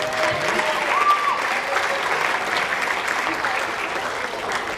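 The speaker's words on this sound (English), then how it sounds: "So give them all a round of applause, please." Steady crowd applause in a school auditorium at a middle school choral and band concert, continuous many-handed clapping with a brief tonal whistle or ring near the start.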